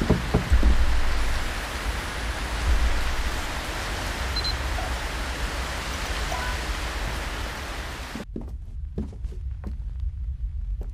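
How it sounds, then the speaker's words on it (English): Steady broadband hiss of heavy rain in a backrooms horror video game fills most of the clip, then cuts off abruptly into near silence broken by a few soft clicks and taps. "Oh, it's raining."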